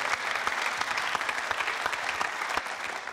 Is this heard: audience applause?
yes